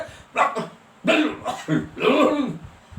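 A human voice imitates a dog barking loudly, giving four harsh, raspy bark-like bursts close to the microphone with short gaps between them.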